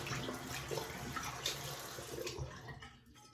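Tap water runs steadily for a rinse during a head shave, a close, continuous rushing splash that cuts off and fades to quiet near the end, with no voices.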